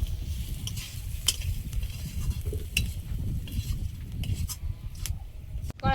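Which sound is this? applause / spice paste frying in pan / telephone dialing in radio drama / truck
spice paste frying in pan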